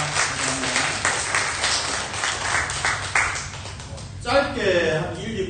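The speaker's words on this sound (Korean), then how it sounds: "우리 수고한 프레젠테이션 하시고 또 설교까지 해주신 우리 팀원들에게 박수 한번 보내주시겠습니다" A church congregation applauds its team members with a dense wash of clapping for about four seconds, followed by a voice speaking from the front over the fading claps.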